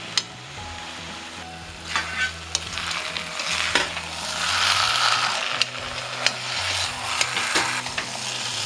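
Tapioca and mutton curry mixed and heated in a pan, Kerala style: continuous sizzling with repeated scraping and clinking stir strokes, close and fairly loud, with no voices.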